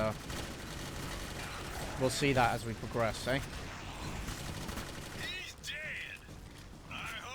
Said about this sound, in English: I hope you guys like the sound of gunfire, because you're going to be hearing it a lot